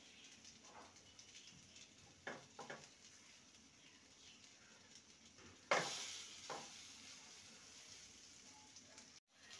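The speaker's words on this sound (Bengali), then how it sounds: "এবার পাউরুটিগুলোকে এপিঠ ওপিঠ ভালো করে সেঁকে নিয়েছি" Bread slices toast in a frying pan with a faint, soft sizzle, broken by a few light clicks and one sharp clatter midway, after which the frying hiss grows slightly louder.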